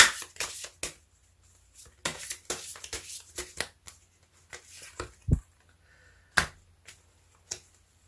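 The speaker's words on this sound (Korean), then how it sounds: "그럼 조언점 카드 한 장 더 뽑아보도록 할게요." Tarot cards being shuffled and drawn by hand, a series of crisp riffling and sliding bursts with short pauses between, then a few isolated snaps and taps as single cards are pulled, close and clear with no talking.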